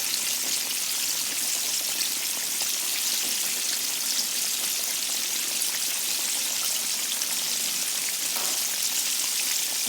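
Flounder fillets frying in a pan of oil, a steady, loud hiss and crackle like heavy rain that continues without a break, with no talking over it.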